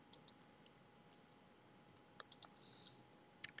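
Computer mouse clicks while drawing a head with the Pen and Curvature tools in Illustrator, a scattering of crisp, quiet single clicks close to the microphone, with one brief soft rustle in the middle and a final double click.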